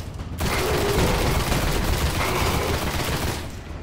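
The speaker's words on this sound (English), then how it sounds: "I'm just gonna have to defeat him using the rifle." Rifle fire in the video game Destiny: a dense, continuous burst of rapid gunshots that stays loud and sustained for several seconds.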